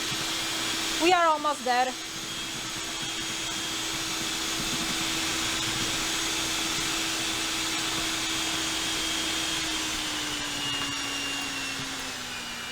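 An electric mixer beats meringue with a steady high whine that holds for several seconds and then slowly drops in pitch, heard close, with a brief spoken line near the start.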